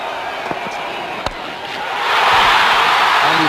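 A cricket crowd at a West Indies versus Australia match in Barbados roars into loud cheering for a boundary four, the swell rising and holding after a couple of sharp knocks and a brief quieter stretch.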